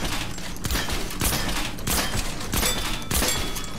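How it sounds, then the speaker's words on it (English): Rapid gunshots at a video game shooting range, a loud continuous fusillade with sharp bursts recurring roughly every half second and heavier cracks near the middle and end. "Then next you got the shooting range, which you can shoot, which is actually quite easy"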